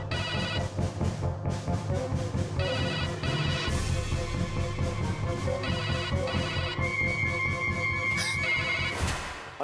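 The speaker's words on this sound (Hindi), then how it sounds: "किडनैपर का फोन है" A telephone rings with repeated electronic bursts over busy background music and sound effects in a comedy TV episode, the incoming kidnapper's call, ending in a loud crash-like swell.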